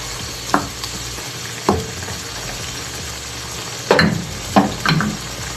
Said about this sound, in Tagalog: Habang kumulo siya.